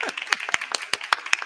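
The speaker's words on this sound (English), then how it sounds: "Let's give a round of applause." A small group claps for a guest at an online talk on solar cooking, with sharp, evenly spaced claps close by that keep a steady rhythm for about a second and a half.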